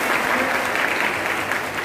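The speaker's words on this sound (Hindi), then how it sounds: "इनके लिए पहले ताली बजाओ।" An audience at a talk gives a burst of applause, dense and steady clapping from many hands that is loud and close and carries on unbroken, with no talk over it.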